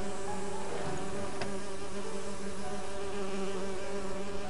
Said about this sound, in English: I need to subdue the bees first.